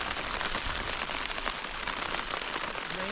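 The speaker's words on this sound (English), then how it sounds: "It's raining all the time." Steady rain falls on a surface at a wild campsite around 1,800 meters altitude as a thunderstorm approaches, a dense, even patter of drops continuing throughout without any talking.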